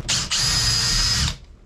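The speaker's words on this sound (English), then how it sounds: "I can't actually get the drill in behind, so I'm gonna have to drill these from this side" A power drill bores into plywood aboard a wooden boat in two steady, loud, close bursts, a brief whine followed by a longer sustained run that stops abruptly, with no talking.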